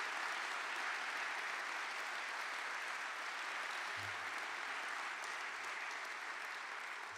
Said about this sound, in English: could you give them a round of applause for all their hard work?